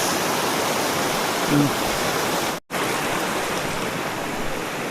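Cool, clear river water rushes past in a steady, broadband wash close by, with a faint brief voice near the middle.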